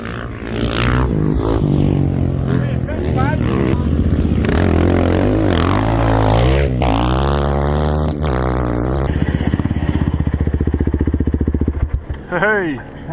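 A KTM motorcycle at the 2023 Finke race pulls away from a pit stop with loud, close engine revs that climb and fall repeatedly, then settle into a steady drone.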